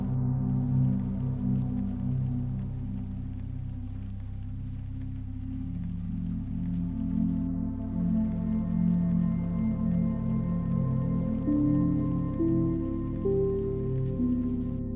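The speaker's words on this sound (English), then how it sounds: "Rain continued to fall in a slow, gentle rhythm." Gentle rain falls steadily on a night scene, a soft, even patter with a constant low hum beneath it and no voices.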